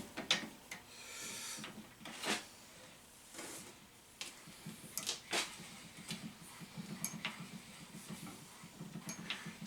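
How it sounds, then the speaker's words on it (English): Metal stock for a BBQ grill build is cranked through a roller, giving repeated creaking, ratcheting clanks and squeaks at an irregular rhythm. The sound is close but fairly quiet, and no one speaks. "So let's run it through the roller a couple more times."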